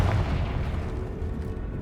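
A Confringo fire spell blast cast in Hogwarts Legacy, a dense, booming burst with a rumbling low end that rolls on steadily for about two seconds without fading, loud and close.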